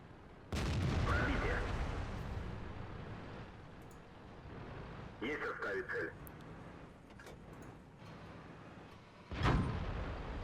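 Tank cannon shots in World of Tanks striking and bouncing off armor, a few loud booming impacts with metallic ringing spaced across the stretch, close and sharp over a steady rumbling game backdrop.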